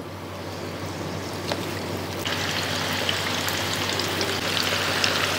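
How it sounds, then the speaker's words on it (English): Onion bhajis dropped into moderately hot oil, frying with a steady broadband crackle and hiss that thickens after a couple of seconds, continuous and fairly close, with no talking. "Now carefully drop them in moderately hot oil."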